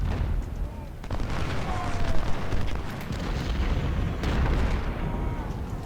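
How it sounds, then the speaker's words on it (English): Cannon and artillery fire from Ultimate General: Civil War during the Battle of Chickamauga, a steady rumble of booms and gunshots with a narrator's voice running over the battle. "We are taking some damage from the artillery fire."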